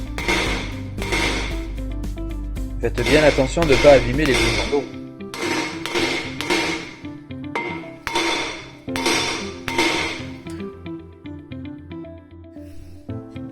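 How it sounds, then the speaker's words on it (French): A hammer strikes a metal brake disc on a Toyota KDJ120 over and over in uneven bursts of ringing blows, while someone speaks briefly in French. "Simple et efficace, la méthode du coup de marteau."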